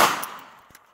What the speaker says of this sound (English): We'll be shooting a 38 special to start. Okay, but here we go, this is that first round.